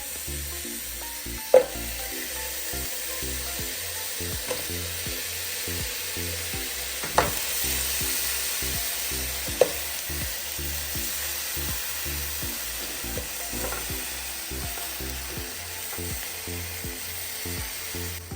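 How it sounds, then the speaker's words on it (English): Steak strips sizzling in a heated pan sprayed with cooking oil, making a continuous close crackle with a few sharp clinks and scrapes spread through the clip and no speech. "Now that the pan is heated up, I'm going to just place my steak strips inside."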